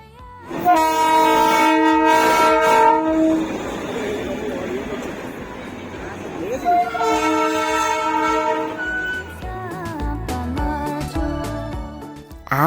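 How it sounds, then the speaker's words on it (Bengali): A diesel Darjeeling Himalayan toy train near Darjeeling sounds its horn in long, loud blasts, engine rumbling between them, then a second horn burst followed by fading clatter. "আবারও একটা ডিজেল ইঞ্জিনযুক্ত টয় ট্রেনের সাথে দেখা হলো"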